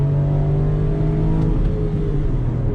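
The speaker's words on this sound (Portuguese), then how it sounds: "tô a 20 por hora, afundei o pé de segunda marcha" A Nissan Versa engine revs hard under acceleration in second gear from about 20 km/h, a steady loud rising drone close to the microphone with no talk.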